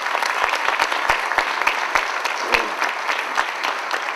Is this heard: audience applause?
yes